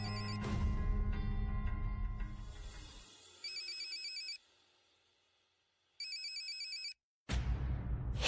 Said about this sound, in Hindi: विहान का फोन।